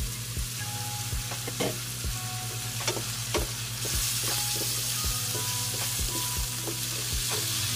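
Chicken and chicken liver cook in a pan under a continuous loud sizzle, with occasional low thumps and clinks from stirring, and no one speaking.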